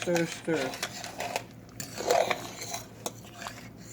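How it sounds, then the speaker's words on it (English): Macaroni stirred in a pan, with scattered metallic scrapes and clinks of a utensil against the pan at close range, irregular and fairly quiet, and a voice heard briefly at the start. "you have to keep stirring that macaroni? It will stick to the pan if you don't stir it"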